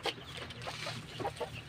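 Backyard chickens cluck softly in short, scattered bursts, fairly close, with a low background murmur.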